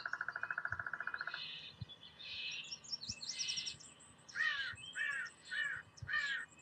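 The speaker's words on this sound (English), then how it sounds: "Definitely the crow." A crow caws four times in a slow, evenly spaced series at moderate distance, following a quick rattling bird chirp and softer calls in an otherwise quiet outdoor setting.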